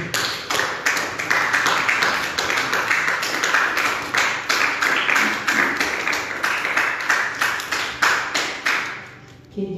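A church congregation claps together in a fast, even rhythm, loud and close, the dense steady beat holding for about nine seconds before fading at the end.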